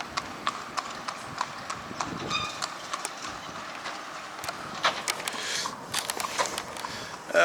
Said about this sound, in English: So, a horsey carty.